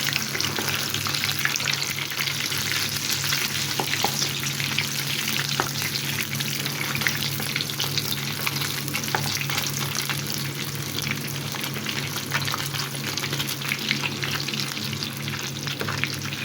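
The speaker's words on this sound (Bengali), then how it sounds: "অপর পিঠটাও আমি এরকম 1 মিনিটের মধ্যেই ভেজে নেব।" Chicken pieces fry in a pan for chilli chicken, giving a continuous crackling sizzle with scattered pops and occasional stirring, close and steady throughout.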